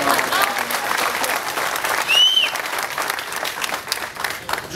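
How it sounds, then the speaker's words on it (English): Audience applause with whistles for a state senator at a political event, steady clapping from a crowd throughout, with a bright whistle rising in the middle. "Let's give her a round of applause."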